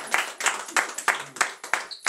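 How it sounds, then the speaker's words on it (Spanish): A small group claps in a steady rhythm, about three claps a second, close by, with a few soft cheers mixed in. "Un aplauso"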